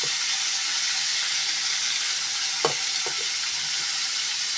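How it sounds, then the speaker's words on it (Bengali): Taro leaves and garlic fry in hot oil with a continuous, even sizzle, broken by a couple of faint stirring knocks near the middle. "এগুলো দিয়ে দেবো কচুর শাকটা এই তেলের মধ্যে। সাথে এই যে রসুনটাও দিয়ে দিলাম।"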